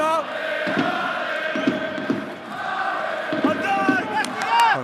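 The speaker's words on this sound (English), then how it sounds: "Home crowd trying to get behind the team" Home crowd at a Racing 92 versus Clermont French Top 14 rugby match, a steady roar of massed voices with swelling shouts and chants, continuous and fairly loud throughout.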